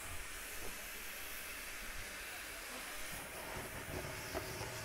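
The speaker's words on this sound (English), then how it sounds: "Every guy can see the steam. It's departing now." A steam locomotive pulls out on a heritage service from Queenscliff to Lakers Siding, giving off a steady, loud rush of hissing steam and rumbling train noise with no talking.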